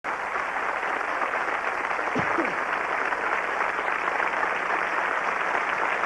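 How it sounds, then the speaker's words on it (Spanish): Sustained, dense applause from a concert audience for an orchestra of Mexican musicians at a show, a continuous wash of many hands clapping at even loudness throughout. "pida un aplauso muy grande"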